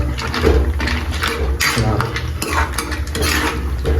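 Food being stirred and mixed in a cooking pan at home, with steady scraping and clinking of the utensil against the pan, fairly close and continuous over a low background hum.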